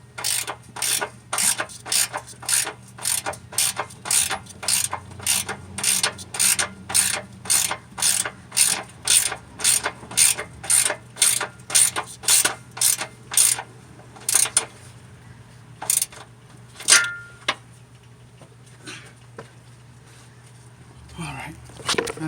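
A ratchet wrench clicks in a steady run of loud, close strokes as it tightens a bolt on a Honda transmission range switch, then slows to a few scattered clicks, with a low hum underneath.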